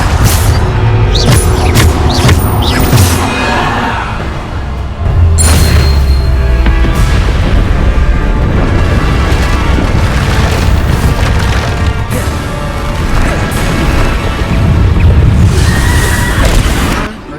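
Loud spell blasts from Hogwarts Legacy combat, including the Bombarda explosion spell, with booming, splintering crashes of wood and debris repeated throughout amid constant game action.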